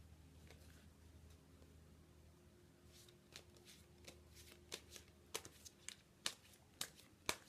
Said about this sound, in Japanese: それでは今日のカードを引いてみたいと思います。